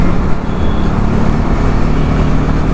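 Bajaj NS400Z motorcycle riding through city streets, its engine a steady close rumble blended with wind and road noise for a few seconds, with no voices.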